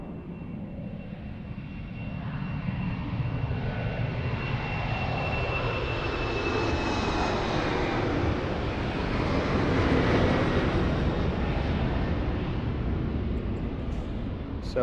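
Jet airliner engines roar steadily at Lisbon Airport, a loud, broad rumble that swells in the middle as an aircraft passes close, with no talk over it.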